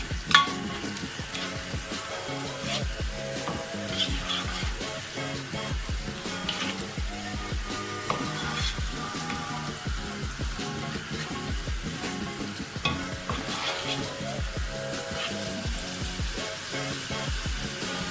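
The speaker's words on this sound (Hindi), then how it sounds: "हम पहले इसे थोड़ा सा सौते करेंगे ताकि इसका कच्चापन भी ख़त्म हो जाए।" Chopped carrots sauté over a full flame for restaurant-style egg fried rice, a loud, continuous sizzle broken by frequent stirring scrapes and clatters from start to finish.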